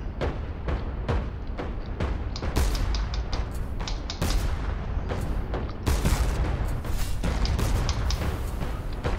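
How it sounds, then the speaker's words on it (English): Torpedo explosions in the airship combat game Cloud Pirates boom and crack in rapid succession, dense overlapping blasts and gunfire-like bursts filling the whole stretch loudly. "Oh, I used torpedoes on him."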